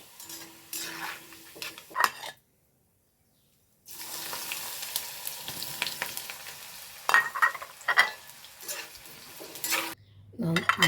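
Frying sizzle with metallic scraping and clinking as a utensil scoops fried bitter gourd out of oil, cut off by a short silence before the sizzling and clatter resume.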